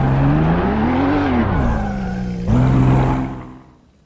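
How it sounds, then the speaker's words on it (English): GT3 race cars on a warm-up lap pass with loud droning engines whose pitch rises and falls through gear changes, a second engine note surging in before the sound fades away into the distance. "they have got one full lap to go around, warm up their tires and brakes"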